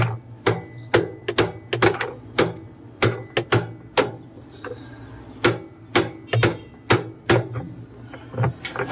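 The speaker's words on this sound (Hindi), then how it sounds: "अब हम अपनी रिंच की मदद से इसको अच्छे से टाइट कर देंगे हथौड़ी की मदद से" A hammer knocks a wrench to tighten the drum nut of an LG top-load washing machine, giving a close series of sharp metallic taps in an uneven rhythm with short gaps between blows.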